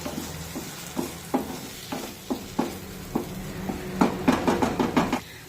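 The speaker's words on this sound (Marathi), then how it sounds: "मसाल्याने छानपैकी तेल सोडलेलं आहे" Masala fries in oil in a pan for a cauliflower and potato curry, a steady close sizzle broken by repeated scraping stirs of a spoon against the pan.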